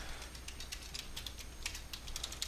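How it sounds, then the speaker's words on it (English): A computer keyboard clicks during Minecraft play, quick light taps in an uneven run, faint and close, with no talking. "Sorry about the keyboard click."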